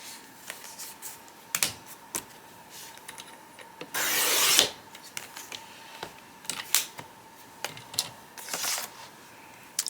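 Scissors snipping through paper while an Archer & Olive planner page is trimmed for a January highlight spread: a near, firm burst of cutting with a few light rustles and taps around it, and no talking.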